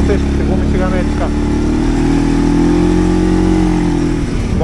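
A Segway Snarler AT6L ATV with Stage 2 variator tuning and heavy tires runs nearby, its engine droning and revving under someone speaking.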